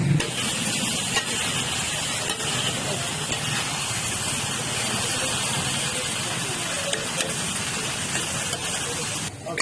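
Minced meat (keema) frying with spices in a pan, a dense, steady sizzle and hiss that holds close and loud throughout, with faint background voices underneath.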